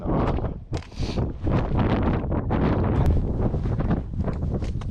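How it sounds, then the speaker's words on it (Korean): Strong wind roars across the exposed summit of Jaeyaksan or Gajisan in the Yeongnam Alps, a steady, loud buffeting rush with gusty swells that fills the whole clip. "야 바람 매섭네 아주"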